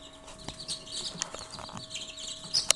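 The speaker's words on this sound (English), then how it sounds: "Okay, that's baby chicks." Button quail chicks, among the tiniest chickens in the world, chirp in short, high, scattered peeps over a faint steady background, with one sharper, louder chirp near the end.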